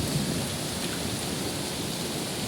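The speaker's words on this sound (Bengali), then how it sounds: "কি জোরে বৃষ্টি হচ্ছে" Heavy rain pours outside an open window during a thunderstorm, a dense, steady roaring hiss that fills the whole moment with no voices.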